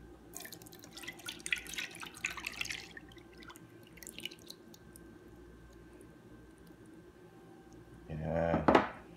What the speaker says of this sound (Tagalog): Salain natin siya.